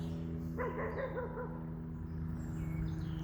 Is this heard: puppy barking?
yes